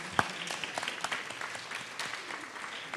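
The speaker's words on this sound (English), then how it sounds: "should we clap for Nino? Let's just do it." An audience at a university faculty research panel applauds, giving a brief, fairly soft burst of scattered hand clapping that continues for a few seconds.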